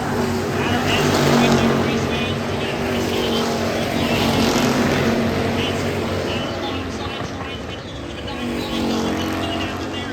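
Hobby stock race cars roar around the Adams County Speedway oval on the last lap while battling for the lead, engine noise loud and continuous with an announcer talking over it.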